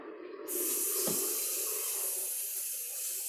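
Cold water gushes steadily from a kitchen tap into a sink, starting abruptly after a brief pause and continuing as a loud, constant close-up hiss and splash.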